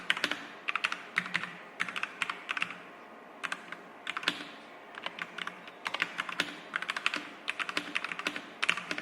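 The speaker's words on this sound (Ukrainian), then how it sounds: "Невеликий саундтест, щоб ви мали уяву про те, як звучить ця клавіатура в роботі" Rapid clacky keystrokes on a Lorgar Azar 514 mechanical gaming keyboard come in bursts and runs, close up and crisp, with brief pauses between flurries and no talking.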